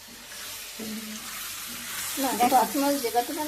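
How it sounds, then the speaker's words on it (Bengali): Egg curry being stirred in a frying pan, a steady sizzle with scraping stir strokes growing busier toward the end, with voices talking faintly in the background. "নাড়াচাড়া করো এখন"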